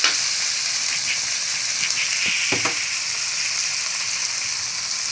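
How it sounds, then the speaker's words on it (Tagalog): Onion, garlic, ginger and tomato sauté in a hot pan, a bright continuous frying hiss with a couple of brief scraping stirs near the middle, close and without talk. "nagisa muna tayo ng sibuyas, bawang, luya at kamatis"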